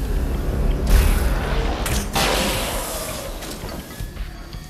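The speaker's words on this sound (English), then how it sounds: "Das sind Dunkelheitsgranaten, in der Tat. Keine Flashbangs, sondern Darkbangs." Darkness grenade detonating in the video game Alan Wake's American Nightmare, a deep rumbling boom followed by a second burst and a whooshing, crackling tail that fades slowly.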